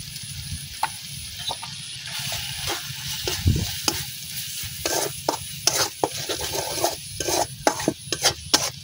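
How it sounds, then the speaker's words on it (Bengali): Spice paste for a prawn and taro-stem chachchari sizzles and fries in a pan while a spoon scrapes and stirs it in irregular strokes, close and clear with no talk. "এখন এই মশলাটা একটু ভালো করে কষাই নিলাম"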